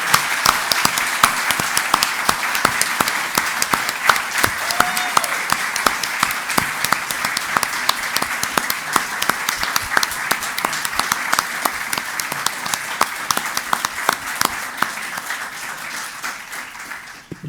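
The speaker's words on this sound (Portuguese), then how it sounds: "Uma calorosa salva de palmas para os 4." An audience at an academy of letters induction ceremony gives sustained applause for four new members, a dense, even clatter of many hands that continues steadily and tapers slightly near the end.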